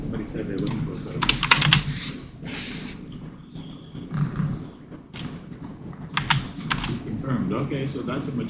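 Loud, close computer keyboard typing in irregular bursts of clacking keystrokes and heavier key thumps, with someone talking intermittently alongside.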